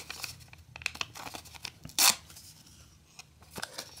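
Paper cut with scissors, a few close snips and crinkles followed by one louder, sharp tearing cut in the middle and softer snips after.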